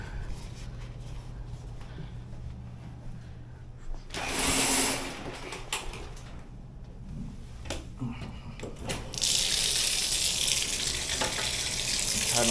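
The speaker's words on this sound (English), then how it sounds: "And then turn the hot water on." Hot water from a condo tap rushing to flush an air conditioner drain line during maintenance, a steady hiss that swells for a moment, eases, then returns louder and keeps running close by.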